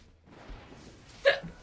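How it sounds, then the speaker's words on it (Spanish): A single sharp hiccup from a man playing a video game pops out once near the end, close and distinct over faint background hum. "Ahora tengo hipo."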